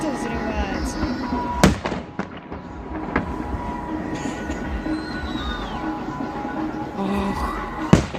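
Fireworks burst during a salute display, sharp cracks standing out twice against a steady crackling, whistling background, with voices talking and exclaiming nearby throughout.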